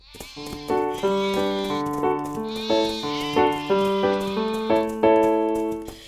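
Sheep bleat repeatedly, several wavering calls overlapping one another, loud and close with no talking.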